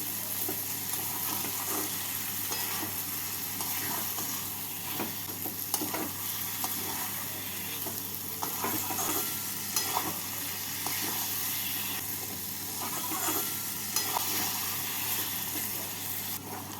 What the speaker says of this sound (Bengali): কিমা দিয়ে মশলার সাথে কিমাটাকে ভেজে নিচ্ছি